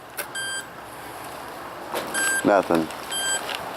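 An Amzdeal Smart Hunter metal detector, swept over a previously dug hole on a beach, gives three short, clear electronic beeps spaced about a second apart, while a person speaks briefly between them.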